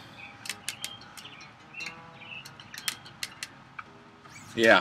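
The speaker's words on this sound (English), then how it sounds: "the birds chirping and the wind chimes blowing" Birds chirp and tweet throughout in short bright bursts over a steady background, with faint tinkling hints of wind chimes on a spring day and a louder rustle near the end.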